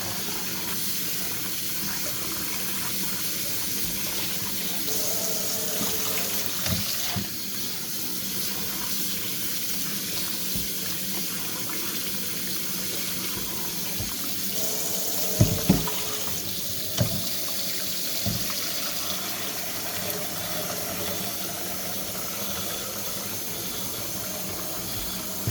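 Kitchen tap running steadily into a sink while cold-dyed acrylic and wool yarn is rinsed, a continuous close hiss of flowing water with a few brief splashes and knocks partway through.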